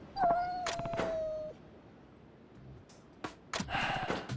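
A hungry cat in the video game Like A Dragon: Ishin lets out a clear, rising meow near the start, with a second shorter mew soon after, then some faint scuffs and brief breathy sounds.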